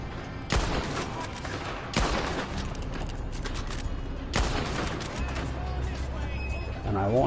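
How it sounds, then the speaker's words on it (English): Loud bursts of gunfire from random shooting in the Red Dead Online video game, several sharp volleys at irregular intervals over continuous game ambience, with a voice speaking at the end. "I'll just go randomly shooting whatever I can find."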